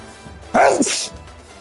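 A single sharp sneeze bursts out over faint background noise, loud and close, then fades quickly.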